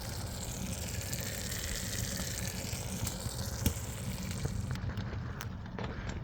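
Onions, butter and minced garlic sizzle in cast iron on a Vogelzang Boxwood BX26E wood stove burning oak, a steady close crackling hiss with a few faint pops throughout.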